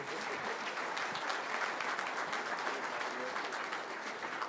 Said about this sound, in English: How about another big round of applause for this team?